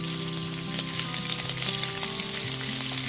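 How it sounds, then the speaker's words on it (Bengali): Chopped onion hitting a pan of garlic on low gas flame sizzles steadily and close, a continuous frying hiss with a low hum underneath, no voices. "তারপর এতে দিয়ে দিচ্ছি পেঁয়াজ কুচিটা"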